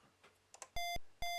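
Square-wave beeps from an Amstrad computer game, two loud sustained electronic tones in quick succession, preceded by a few soft clicks.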